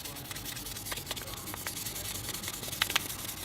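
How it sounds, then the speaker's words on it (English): Fine 1000-grit sandpaper rubs across metal in soft, steady strokes, a quiet continuous scratching with a couple of sharper ticks near the end. "This is 1000 grit sandpaper."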